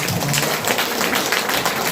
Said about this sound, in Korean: 이 부분에서 우리가 우리 회장님께 박수를 보내드려야 돼요